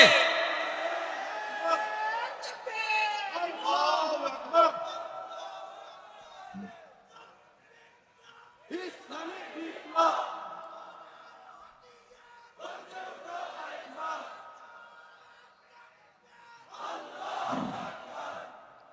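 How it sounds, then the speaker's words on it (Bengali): A crowd at an Islamic sermon gathering shouts the Nara-e-Takbir chant in loud, ringing bursts of many voices, separated by short pauses as the call and response repeats. "আমাদের স্লোগান হলো নারায়ে তাকবীর। জোরে, আরো জোরে, আরো জোরে।"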